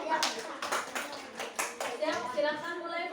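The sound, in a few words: audience applauding a group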